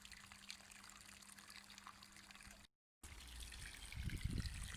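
Water running along a freshly dug garden stream bed during a flow test, a soft steady trickle and wash close by, briefly cutting out, then returning with a fuller low gurgle toward the end.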